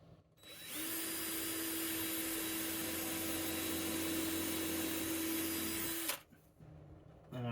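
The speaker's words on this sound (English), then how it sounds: "I'm going to pre-drill." A power drill pre-drilling wood whirs steadily for about five seconds at close range, then stops abruptly.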